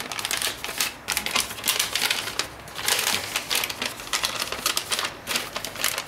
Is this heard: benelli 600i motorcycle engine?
no